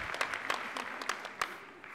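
Audience applause at a university scholars day event, a steady patter of scattered claps from a modest crowd with a few sharper individual claps standing out, fairly close and continuous for the whole stretch.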